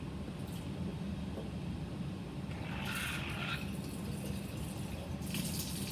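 Water is poured out of lab glassware into a sink, a steady rushing flow throughout with a brighter splash midway, heard close and alone.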